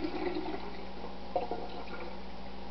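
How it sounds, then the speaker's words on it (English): Rejuvelac, a fermented liquid, poured through a small stainless steel sifter, giving a soft, steady trickle and splash that runs throughout, fairly faint and close, with a brief stronger gush midway. "I place one of these small sifters, stainless steel, over the top like that, and then I just go ahead and pour this in there"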